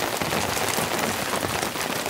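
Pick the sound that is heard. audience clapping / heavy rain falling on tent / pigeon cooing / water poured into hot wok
heavy rain falling on tent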